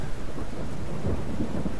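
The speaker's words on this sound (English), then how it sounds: "The drenching rain fills all the space between sky and earth, and it washes away the blood." Heavy rain pours steadily in a rain-and-thunderstorm scene in the video game Deus Machina Demonbane, with a deep rolling rumble of thunder swelling underneath, loud and alone without voices.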